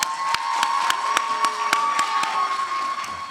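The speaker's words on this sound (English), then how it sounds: "Let's give her a round of applause." An audience at a public library fall festival event claps and cheers, with distinct rhythmic claps standing out over a crowd murmur and a sustained tone, moderately loud throughout.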